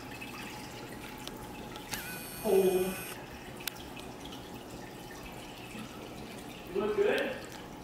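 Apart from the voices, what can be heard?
water dripping while being removed from an aquarium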